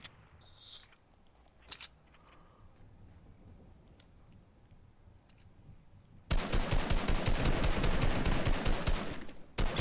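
Rapid automatic gunfire from a shooter video game erupts after a quiet stretch, continuing in loud, dense, sustained bursts that fill the rest of the moment.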